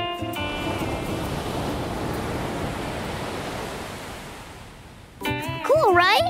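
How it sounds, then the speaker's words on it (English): A seashell held up to the ear gives a steady, soft ocean-like rushing hiss, like distant surf, that runs for several seconds before bright voices and cheerful music-like tones come in near the end. "When I put it up to my ear, I can hear the ocean."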